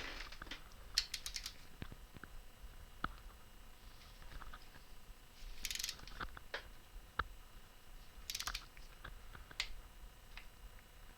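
Bolts on a Gen 3 KLR650 motorcycle are tightened a little at a time during an oil change, quiet scattered metallic clicks and ratchet ticks close by, with no talking.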